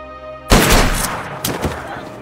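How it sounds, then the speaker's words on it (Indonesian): Gunfire in a film scene, a loud close burst of several shots followed by a couple more sharp reports as the echo trails off, with voices mixed in. "Freddy mengancam akan menembak mereka dan tiba-tiba Freddy tewas ditembak."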